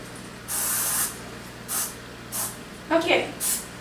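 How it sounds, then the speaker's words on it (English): Cooking spray hits a brownie pre-cutter in short bursts: one longer spray, then several quick hissing puffs close to the mic, with faint rustling between them. "And then I'm gonna spray my little cutter thing, pre-cutter."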